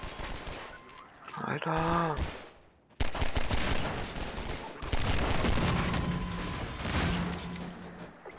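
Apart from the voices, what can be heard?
gunfire in Half-Life 2 video game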